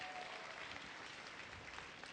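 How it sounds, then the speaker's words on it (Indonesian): Audience applause at a product presentation for a K-Puyikang product, a steady wash of many hands clapping that holds for about two seconds at moderate volume, with no talk over it. "Tepuk tangan untuk Kak Sofi."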